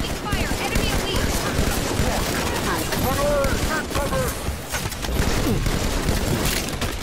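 Gunfire from an enemy Elite in a Halo multiplayer match, dense overlapping bursts and rattling shots across the whole stretch, with whooshing energy-weapon sweeps and a speaker's voice underneath.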